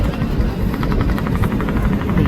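The engine of the passenger launch Surovi-7 drones steadily as the vessel moves at speed on a rainy night, a loud rhythmic low throb with a regular pulsing beat, with no voices.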